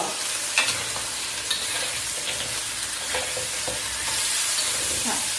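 Garlic and pork ribs stir-fry over high heat for holy basil pork ribs, giving a continuous close sizzle with a spatula scraping and stirring through it.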